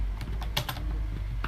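Fingers tap out text on a computer keyboard in a rapid run of close, crisp keystrokes, several clicks in quick succession with no talking.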